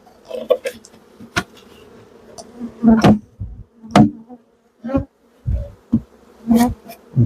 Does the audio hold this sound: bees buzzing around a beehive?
yes